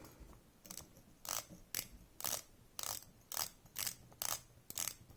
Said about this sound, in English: Yeah, bezel action.